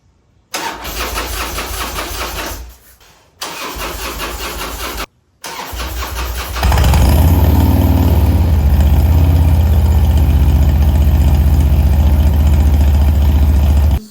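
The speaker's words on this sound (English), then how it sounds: "let's see if it cranks. It's a new carburetor, so it may crank, may not." A Harley motorcycle engine fitted with a new, not yet tuned carburetor cranks in two bursts separated by short gaps, then catches and settles into a loud, steady, rumbling idle up close.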